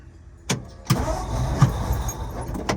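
A 1963 Ford F250 engine cranks and tries to start, with several sharp bursts over a steady rumbling churn, recorded close and with no speech.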